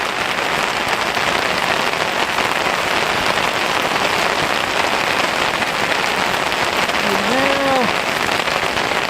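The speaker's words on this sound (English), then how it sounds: "The size of these hailstones." Large hailstones pelt down steadily during a cage feeder fishing session, a loud, dense, continuous patter like heavy rain on surfaces all around, with a brief voice exclaiming near the end.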